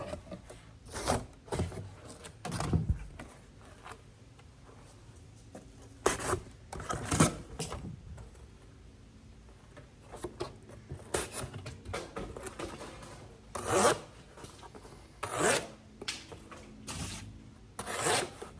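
A well-rounded clip point knife blade from a WE Knives Nefaris slices through cardboard in a series of short, close rasping strokes, scattered across the clip with quieter gaps between cuts.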